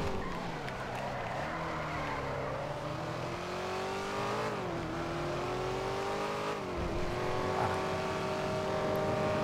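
A car engine drones steadily in a driving video game, its pitch sliding up and down with gear shifts and throttle changes, loud and continuous throughout with no speech.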